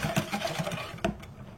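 A whisk stirs marinade in a bowl, giving rapid, rhythmic clicking and scraping strokes, close and fairly clear, with a louder clack near the end.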